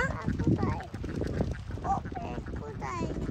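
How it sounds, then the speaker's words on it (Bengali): Domestic ducks call with honking quacks on a boat trip across the Nikli haor wetland, moderately near and repeated in short bursts, mixed with a child's and an adult's voices talking. "পাখি না বাবা, এগুলো হাঁস।"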